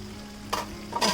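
Chicken sautés in a pan on a medium flame, a steady close sizzle broken by two brief louder bursts of frying as the pieces are stirred.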